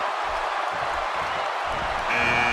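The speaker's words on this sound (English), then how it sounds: "And the crowd rises to their feet to see who it will be." An arena crowd in a wrestling video game roars with steady cheering and applause at a Royal Rumble event, a dense continuous wash of noise that grows slightly louder near the end.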